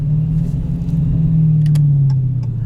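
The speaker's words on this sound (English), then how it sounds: "You do get a ton of backfires and burbles from the stock exhaust" Stock exhaust of a 2019 Dodge Challenger Scat Pack T/A 392 with a manual gearbox, a loud deep steady burble close by, with a few faint sharp crackles late on.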